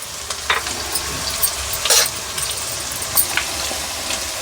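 Chicken pieces sizzling and frying in hot oil with garam masala powder for pepper chicken, with a steady crackle punctuated by sharper bursts of stirring and spatter, close and moderately loud, with no talking.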